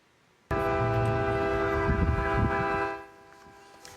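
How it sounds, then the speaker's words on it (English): A piercing siren sounds from a house in Van Nuys, with a tone much like a train horn. One loud, sustained blast starts abruptly, holds for about two and a half seconds, then drops away to a fainter lingering tone. "that sounds like a train horn, but it's coming from a Van Nuys house"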